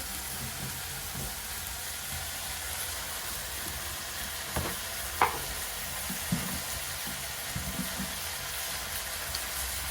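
Prawns sauté in a pan with tomato and turmeric, giving off a faint, steady sizzle, with occasional soft stirring taps and scrapes.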